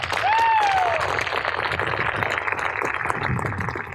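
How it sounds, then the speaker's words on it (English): Audience applause at a school show, a lively wash of clapping that holds steady throughout, with a short whistle-like tone rising and falling near the start. "Could you give him a round of applause?"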